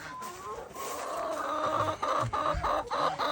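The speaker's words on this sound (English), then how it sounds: "So I already have my little tiny rooster." A small rooster clucks repeatedly on a farm, a string of short throaty calls near and fairly loud against steady barnyard background noise.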